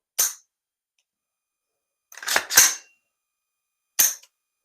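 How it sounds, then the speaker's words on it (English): AR-15 rifle firing in semi-auto with a digital trigger: sharp, separate loud reports, one early, a quick pair near the middle and one more at the end, with silence between shots. "So that's the digital trigger right there. So it's in semi-auto right now."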